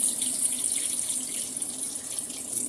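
Tap water runs steadily into a kitchen sink while chopped spinach greens are rinsed, a close, continuous splashing hiss with no talking.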